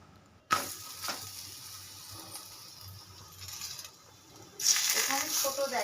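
Paratha made with yogurt dough sizzling in a pan, a soft steady crackle that swells louder near the end, with a few sharp clinks at the start.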